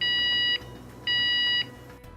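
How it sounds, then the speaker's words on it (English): Two loud, steady electronic beeps from a vehicle lift's audible alarm, each lasting about half a second with a short pause between, sounding alone over faint background hum. "aided by a beep"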